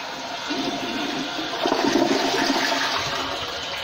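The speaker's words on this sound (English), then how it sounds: "Now it's flushing again." A toilet flushes nearby, water rushing and swirling with a brief surge in the middle before settling into a steady trickle.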